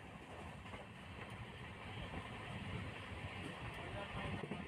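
A train running along a chord line gives a steady, broad rumble of rolling wheels and carriage noise, continuous and fairly distant.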